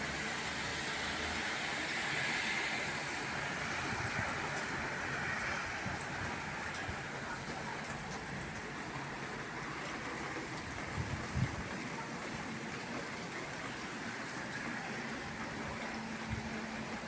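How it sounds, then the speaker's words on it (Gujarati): Heavy unseasonal rain pouring down in a steady, even hiss that fills the air, with faint low rumbles from passing traffic and no talk. "પણ વરસાદ જોરદાર છે ભાઈ, જોરદાર."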